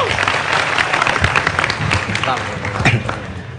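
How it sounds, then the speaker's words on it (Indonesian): A crowd at a Maiyah community gathering applauds for Bang Hariman, a dense, steady wash of clapping lasting a few seconds with voices and cheers mixed in. "Tepuk tangan untuk Bang Hariman"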